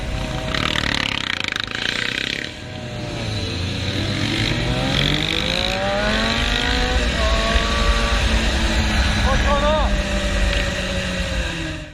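Motorcycles chasing a truck on the road, with several engines revving and climbing in pitch as they accelerate one after another, loud and close under a steady road roar.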